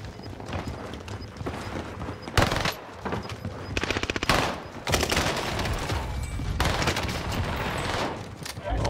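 Rapid bursts of PPSH submachine gun fire in a video game, crackling automatic volleys broken by brief pauses, loud and close with dense repeated shots.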